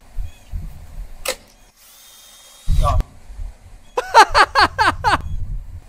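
A power drill with a vegetable peeler attached whirs briefly, followed by a rapid burst of five or six sharp scraping strokes, all loud and close amid scattered exclamations.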